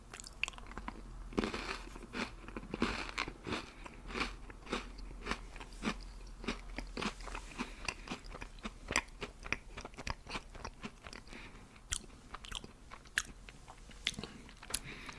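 Close, crisp crunches and chewing of cookies with an icing filling repeat in an uneven rhythm, each bite a sharp crackle followed by softer mastication, quiet and intimate with no voice.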